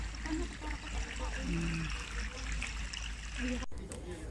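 Water trickles steadily into a container, with a low background hum and faint voices underneath.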